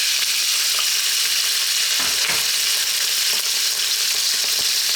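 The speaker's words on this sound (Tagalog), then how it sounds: "Sa akin pong wok, mainit na po yung mantika. Ang first step po natin, lalagay natin yung ating sliced pork." Sliced pork frying in hot oil in a wok, a loud continuous sizzle that holds steady throughout with a few faint stirring scrapes and no talking.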